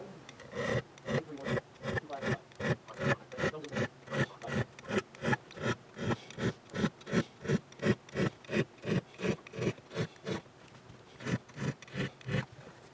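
Steady, rhythmic swipes rub along the frets of a Steinberger Spirit guitar while they are polished, around thirty even back-and-forth strokes close up with a raspy, filing texture and no talk.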